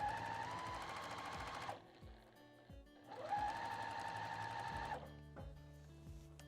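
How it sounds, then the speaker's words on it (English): Sewing machine stitching down a quilt block, running in two steady rapid bursts separated by a brief pause, close and clear, followed by a few soft mechanical clicks. "Make sure my bottom's lined up. Finish sewing down."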